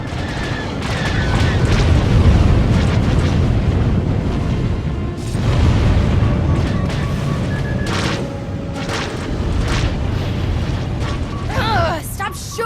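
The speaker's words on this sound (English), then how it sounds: "stop shooting at us!" Video game gunfire and explosions boom and rattle in dense, rumbling bursts throughout, with voices talking over the combat.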